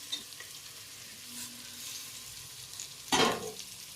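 Tomatoes frying and being stirred in a pan for vegetable biryani, a soft steady sizzle with occasional scrapes and one louder stirring burst near the end.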